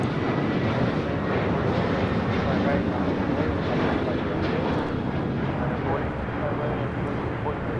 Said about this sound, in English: This is Sun Country Airlines 8501 taking off to Kailua Kona on a 737-800.